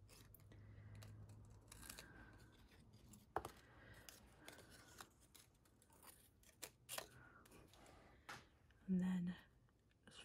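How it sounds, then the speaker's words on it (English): Small scissors make short snipping cuts while fussy cutting a hat shape from paper for a Stampin' Up! papercraft box, quiet and close with irregular clicks and paper rustles, one louder crunch near the end. "So I'm just going to quickly cut around the hat and its little bobble"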